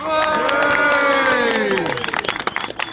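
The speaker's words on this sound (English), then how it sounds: "Big round of applause." A crowd at an outdoor street rally breaks into loud, sustained applause and cheering, with a voice rising over it early on. The clapping then thins out into scattered, fading claps.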